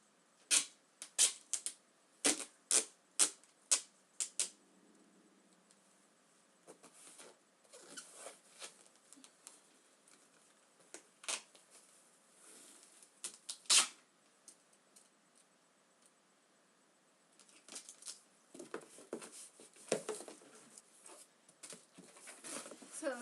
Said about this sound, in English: Now you just need to duct tape the ends here